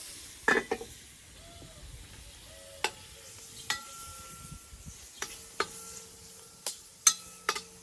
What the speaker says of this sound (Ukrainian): О, вже й шкварчить.